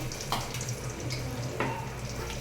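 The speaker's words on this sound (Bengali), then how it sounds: "এবার এটাতে জল দিয়ে দিচ্ছি" Water pours into cooked chickpea dal in a pot, a soft, continuous splashing wash with a couple of brief louder gurgles, quiet and close.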